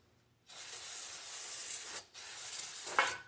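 Aerosol cleaner sprayed onto clutch parts during a 1991 Honda Civic engine installation: two sustained hissing bursts up close, the first about one and a half seconds long, a short gap, then a second burst.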